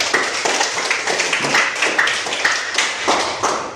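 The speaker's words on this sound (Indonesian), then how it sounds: "tepuk tangan dulu" Classroom applause from students in a teacher's problem-based-learning lesson, a dense spread of near claps that holds steady for a few seconds with no talk over it.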